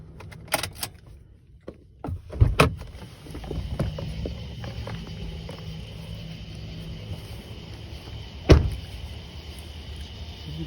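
A 2006 Honda Ridgeline's central locking engaging, a few sharp mechanical clunks and clicks close by, one cluster early and another single thunk later, over a quiet background hum.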